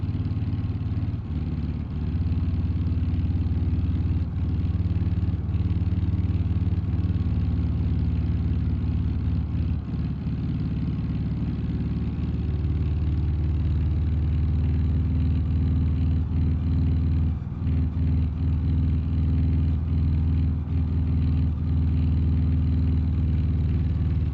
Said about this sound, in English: Engine's starting to sputter a little bit.